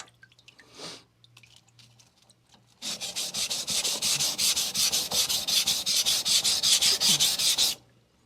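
A knife bevel being repaired is stroked across a Sun Tiger GC220 grit stone in quick, steady back-and-forth rasping passes, loud and close, running for about five seconds before stopping.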